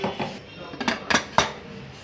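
A pressure cooker holding pork is set down on a stove, with a few sharp metallic clanks and clinks close by against a quiet room.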